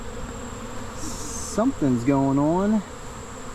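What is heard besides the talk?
honeybees buzzing around a hive colony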